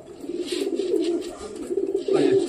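Pigeons cooing behind a tiled roof, a close, soft, continuous throaty purr with pulsing rises that swell louder near the end.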